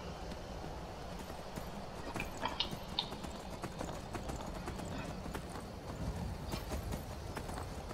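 Continuous galloping hooves of a horse ridden in Skyrim with the Requiem mod, a soft, even patter running unbroken from start to finish with no talk over it.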